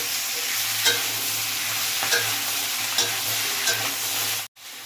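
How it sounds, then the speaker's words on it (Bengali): Spring onion stalks frying in oil in a pan, a steady bright sizzle with a few stirring scrapes at regular intervals, close up and uninterrupted until a brief cutoff near the end. "পেঁয়াজ কলিগুলো কিন্তু এখানে ভাজা হয়ে গেছে"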